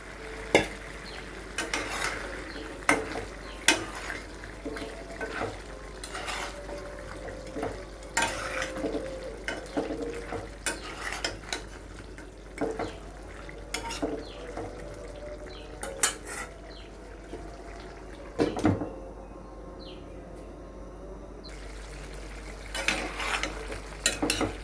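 Mutton and potatoes stir-fried in a pot for kacchi biryani: a spatula scrapes and clinks against metal in repeated strokes over a steady sizzle, close and loud, with no talk.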